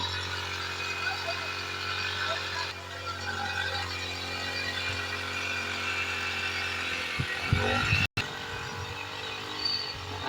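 A motorised sprayer engine drones continuously at close range while spraying grass in a village, with a steady buzzing tone and a brief disturbance near the end; people talk over it.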